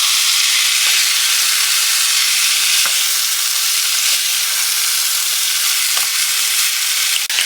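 Celery frying in a small pan over medium-high heat, a loud, dense, continuous sizzle with occasional faint clicks of a utensil, no voices.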